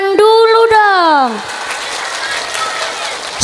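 A crowd at an Islamic religious gathering (pengajian) bursts into dense, sustained applause that fills the space right after a voice finishes speaking.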